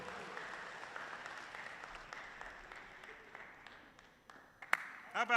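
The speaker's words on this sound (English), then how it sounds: "Let's give them a round of applause again." An audience at a county annual address applauds after a musical performance, a steady even roar of clapping that thins toward the end as a few loud nearby claps and a shout cut through.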